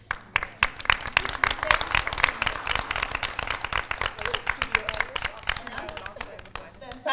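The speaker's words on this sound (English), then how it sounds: "everyone who did make time to come here today, we can clap for you" An audience at a charity foundation event claps, with distinct individual hand claps standing out in a lively, uneven patter of moderate size that holds steady throughout.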